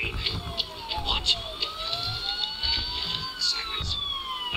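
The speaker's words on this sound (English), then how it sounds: "Sirens. The police." Police sirens wail in the Batman: Arkham Asylum video game, several overlapping gliding tones rising and falling steadily throughout, with a character's voice and game effects layered over them.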